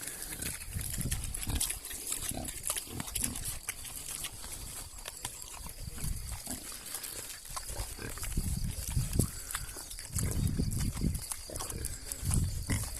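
Pigs grunting in repeated low, snuffling bursts, close by, over a steady background hiss.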